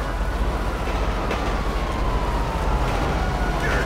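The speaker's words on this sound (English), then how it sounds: "Oh, look at this one's playing chicken with a train." A train in a video game roars past in a loud, continuous, close rumble of wheels on rails, steady for a few seconds with no talking.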